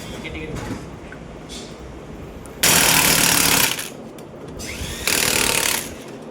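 A power drill on a Suzuki Eeco wheel during refitting gives two loud, harsh bursts, about a second each, separated by quieter workshop noise and faint talk.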